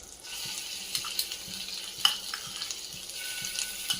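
Ginger, chili and garlic paste sautéing in melted white butter over a low flame, a close, even sizzle with small sputters and pops spread across a few seconds.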